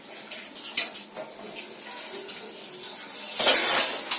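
Potatoes being washed at a kitchen tap, with running water, clinking dishes and metal utensils, and a louder gush of water near the end.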